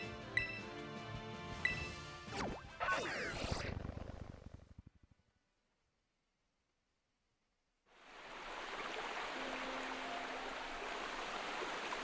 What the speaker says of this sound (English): Oh, I have to go up the waterfall.